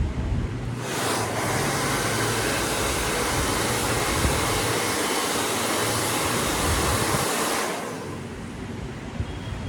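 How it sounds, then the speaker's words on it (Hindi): A handheld blow dryer runs continuously for about seven seconds while styling hair straight, a loud steady whoosh that switches on near the start and cuts off near the end, with no talking. "इस तरह से इसको भी ड्रायर करते हैं।"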